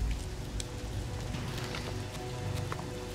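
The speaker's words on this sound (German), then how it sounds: "es regnet und regnet" Steady rain hissing across the whole scene in the open-world game Elex, a dense continuous patter with scattered sharper drop-like ticks and a low rumble beneath, fairly loud and even throughout with no one talking.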